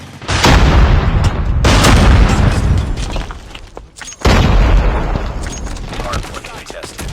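Frag grenade blasts in Call of Duty Mobile during a hardpoint match: two loud, booming explosions about four seconds apart, each erupting suddenly and rumbling on amid gunfire-like crackle.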